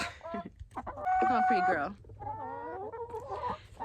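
A pet hen held in someone's hand clucks and makes squawking, warbling calls close by, while a person speaks softly to her.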